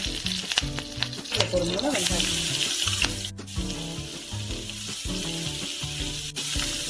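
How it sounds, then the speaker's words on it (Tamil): Fennel seeds fry in hot oil in a pot with a steady crackling sizzle and occasional stirring scrapes, close and continuous; a voice speaks briefly over it. "சோம்பு போட்டுக்கலாம். பொரியட்டும் சோம்பு."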